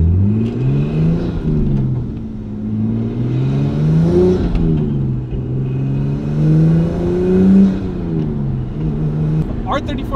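A swapped RB25 engine in an R34 Skyline revs up and down repeatedly with a rising and falling tone, stuttering and cutting out near the end as it hits boost cut, heard up close.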